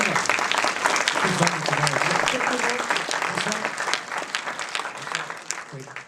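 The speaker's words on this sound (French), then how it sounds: "programmateur de Fresnoy, Stéphane Zawadzki, s'il vous plaît on peut l'applaudir." An audience at the closing night of the Cinémondes 2014 festival at Le Fresnoy applauds with dense, steady clapping that gradually fades, while a voice talks over it.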